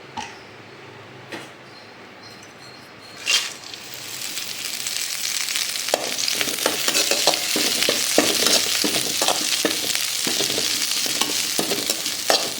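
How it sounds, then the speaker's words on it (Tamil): Curry leaves fry in a little oil, starting as a few faint clinks before a loud, dense crackling sizzle takes over and builds steadily, with stirring scrapes throughout, heard close and without speech. "கொஞ்சமாக எண்ணெய் ஊற்றி நம்ம இப்போ கருவேப்பிலை நல்லா வறுத்து எடுத்துக்குவோம்."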